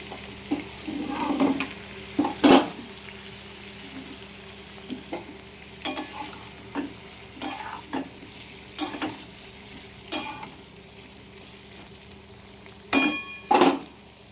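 Ginger frying in a pan with a steady low sizzle, broken by about nine sharp scraping stirs of a spoon against the pan, spaced a second or two apart.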